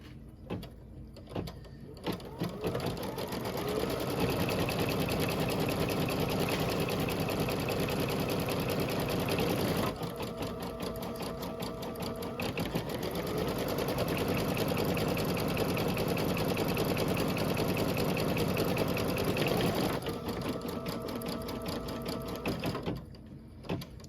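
An embroidery sewing machine stitches a small buttonhole in a hoop, running in a loud, rapid, continuous whir of needle strikes, pausing briefly around the middle and then resuming at the same pace.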